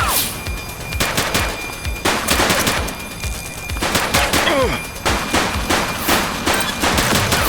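Rapid bursts of automatic gunfire and single loud shots ring out in a police shootout in the video game The Precinct, coming in close repeated volleys with brief gaps between them.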